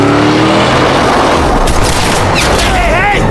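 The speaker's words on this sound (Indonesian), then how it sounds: "tembakan Marcus salah satunya ada yang mengenai tubuh Alex" Loud bursts of gunfire and booming impacts crowd a dense, noisy action soundtrack, ending abruptly.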